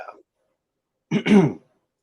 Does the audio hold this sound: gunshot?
no